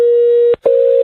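A steady electronic telephone tone sounds after a call is hung up, loud and clear, split by a brief break into two long beeps.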